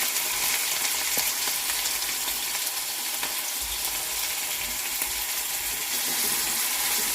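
Chopped onions and green chillies go into hot oil already holding cumin and fenugreek seeds. A soft, continuous sizzle and crackle carries on evenly throughout, with no voices.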